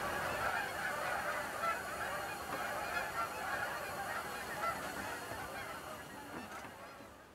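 A flock of geese honks continuously at a distance, overlapping calls forming a steady, moderately faint chorus that fades slightly at the end.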